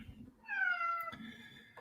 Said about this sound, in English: You're gonna hear my cat the entire time